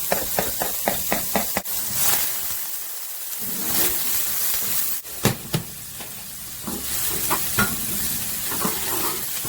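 Olive oil and a pat of butter sizzle in a pan on the stove, a loud close crackling hiss with a run of rhythmic utensil taps at the start and scattered scrapes later.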